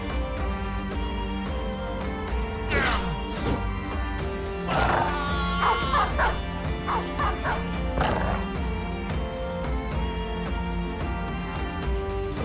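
Dogs barking in the video game Battle Brothers, several sharp yips and bow-wows bursting out in clusters over a steady layer of game music and battle noise.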